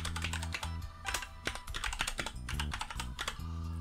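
Typing on a computer keyboard while entering an email address to sign up for an account, a rapid, close run of clicking keystrokes with brief pauses.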